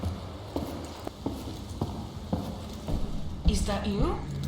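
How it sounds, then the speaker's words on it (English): Footsteps in the video game Paradise Lost thud softly and steadily, one roughly every half second, under a low ambient hum. A voice speaks over the last stretch. "I can hear your footsteps"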